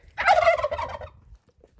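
A turkey gobbles once in a loud, rapid, warbling burst, close by, then falls quiet.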